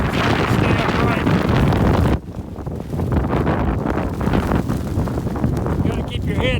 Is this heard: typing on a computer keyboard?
no